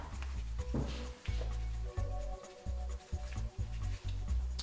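Playing cards mixed by hand for a card trick give a soft rubbing, shuffling rustle in short bursts, heard over a steady low background drone.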